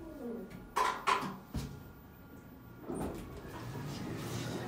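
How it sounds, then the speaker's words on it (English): An Otis Gen2 elevator door slides open at floor 3 in a Sports Direct store in Dublin, with a few sharp knocks and clunks followed by a soft rolling rumble of the moving panel. "3 opens up the weird door."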